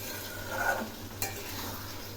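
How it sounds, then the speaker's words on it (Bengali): Garlic, chili powder and coriander powder sizzle in hot oil as a spoon stirs and scrapes the pan, a steady close frying hiss with one sharper knock of utensil on metal. "এবার আমি এই মশলাগুলো খুব ভালো করে কষিয়ে নেব,"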